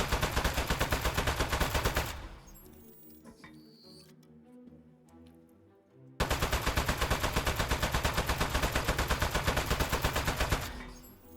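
Two long, loud bursts of steady automatic video game gunfire hammer away with a quieter gap between them, close and dominant with no talking over it.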